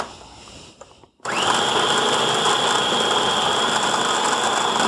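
Food processor blending a coconut and date mixture for bars, the motor kicking in abruptly after a quiet moment with a few faint clicks, then a loud steady whir running to the end.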